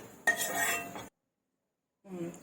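A spoon scrapes roasted cumin and garlic out of a pan onto a plate in one close, busy metallic burst of about a second, followed by a gap of silence and a softer second stretch of scraping.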